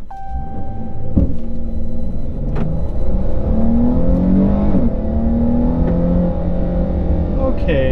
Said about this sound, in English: Activate launch. All right, to launch, press brake and quickly apply throttle.